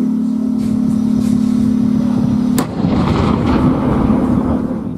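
A tank cannon fires a single loud, sharp shot over a steady engine hum, followed by a rumbling blast tail.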